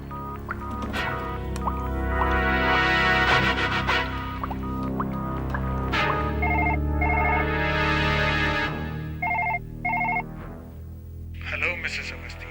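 A telephone rings in two short double bursts in a horror TV show, clear over a steady background of music and low voices.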